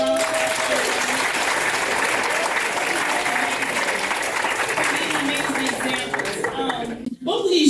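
An audience at a convocation ceremony gives a long, steady round of applause, a dense clapping crowd heard throughout that thins near the end, with a brief voice and a bump at the close.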